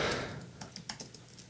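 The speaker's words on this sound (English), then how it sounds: "As you can see, I'm super good at typing." Typing on a computer keyboard during a Minecraft building session, a quick burst of separate light key clicks, close and fairly quiet, with no talking.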